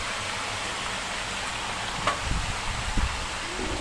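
Green chillies sizzle and fry in a pan of vegetable curry greens, with soft scraping stirs and a steady hiss throughout, a few louder clatters of the spoon near the end.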